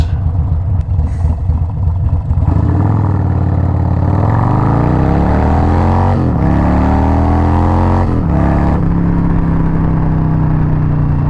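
Harley-Davidson motorcycles pass close by, loud engines rising in pitch as they accelerate, with overlapping revs and a final steady drone, and no talking.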